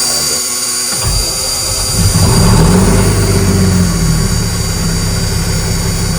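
An old 9000 truck's big engine cranks and catches after a second, then roars up in a heavy rev and settles into a loud, rumbling idle.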